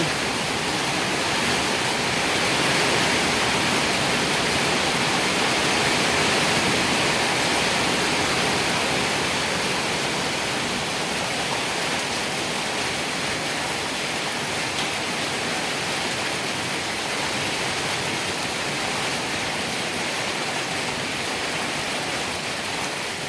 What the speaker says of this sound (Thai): มาเป็นฝนเนาะ ตกอย่างแรงนะคะ